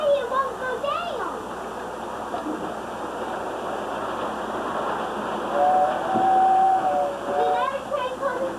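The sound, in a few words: passing train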